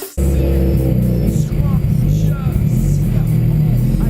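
A 650 hp twin-scroll turbocharged Honda Civic idles steadily after a cold start, its low engine drone close and continuous, with a person talking over it.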